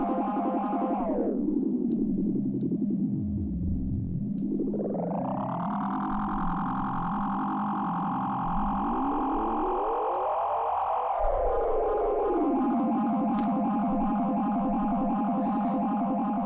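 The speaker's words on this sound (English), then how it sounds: "It's taking the sound that's looping through it and adjusting the timing, which gives it this crazy effect." A simple melody loops through a delay and feedback effect whose echo timing keeps shifting, so the repeats bend upward and downward in pitch as sustained, swirling, distorted layers. The sound is continuous, loud and steady, with no voices.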